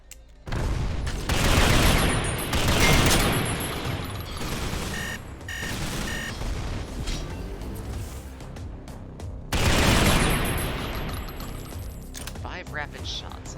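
Rapid bursts of gunfire in the top-down shooter Synthetik, loud, dense volleys around two and ten seconds with quieter shooting and mechanical clicks between, while a person talks over the action.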